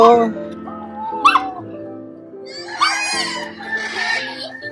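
A Labrador whines and yelps in high, wavering bursts, with a sharp bark in between, as people talk close by at a farm.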